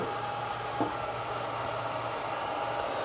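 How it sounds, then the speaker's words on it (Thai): Two cooling fans in a Riden RD6030-W digital bench power supply run with a constant, even airy whir and a low steady hum, close up and uninterrupted. "เมื่ออุณหภูมิได้ power supply ก็จะทำงานพัดลมก็จะทำงาน ทำงาน 2 ตัว"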